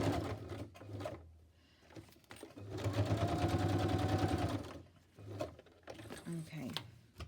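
A sewing machine runs in a steady burst of rapid, even stitching through paper for several seconds, framed by someone talking before and after the run.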